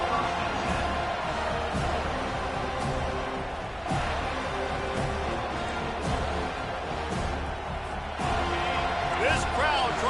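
A stadium crowd at a college football game roars steadily throughout as a broad, continuous wash of noise, with a commentator talking over it.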